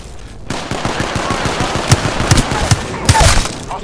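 Shotgun fire from the Peacekeeper in Apex Legends, a run of sharp, punchy blasts roughly every half second over a busy stream of game noise and effects, close and loud.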